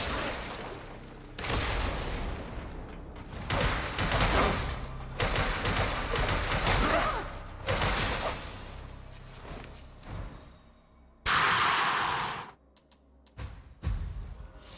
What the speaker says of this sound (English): remember the explosion is also damaging